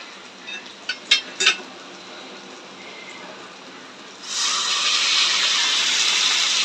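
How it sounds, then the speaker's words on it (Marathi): A kadhai, a wok with spiced masala stuck to it, gets rinsed in a home kitchen: a few metallic clinks of the pan come first, then tap water gushes steadily and loudly under it. "थोडीशी कढई धुवून टाकली, कारण त्याच्यात मसाला चिटकला होता."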